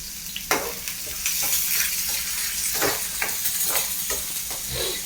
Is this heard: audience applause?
no